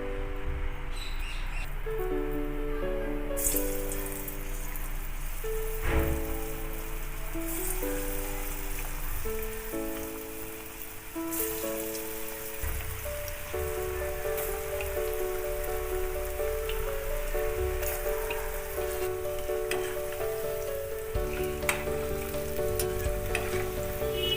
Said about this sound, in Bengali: এবারে আমি বড়া ভেজে নেবো